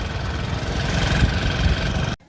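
Motor vehicles running along a busy road in Dhamdha, Chhattisgarh, a steady close engine rumble and traffic drone that continues without pause, then cuts off abruptly near the end.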